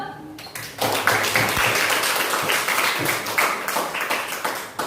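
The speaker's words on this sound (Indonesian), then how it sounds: "Tepuk tangan dulu" A class of students claps in a room, a steady burst of hand applause lasting several seconds, fairly close, with voices mixed in under the clapping.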